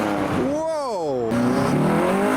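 A car slides at a car meet, with a loud, close engine rising and falling in pitch and a tire squeal through the drift. Onlookers talk over it.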